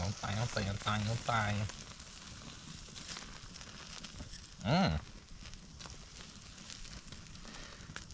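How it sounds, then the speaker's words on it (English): Steady broadband sizzle of steak frying in a pan at an outdoor campsite, with a few short voice-like sounds near the start and a brief louder call midway. "Sizzle, sizzle, baby."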